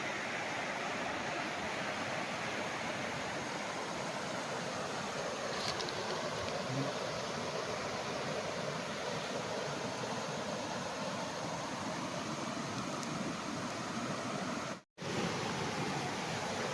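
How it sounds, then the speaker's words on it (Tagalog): A river running along the edge of a farm lot in Cavinti, Laguna gives a steady, even rush of flowing water, close and continuous, with a brief drop-out near the end. "Ang ganda ng ilog oh."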